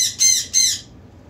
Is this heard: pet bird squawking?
yes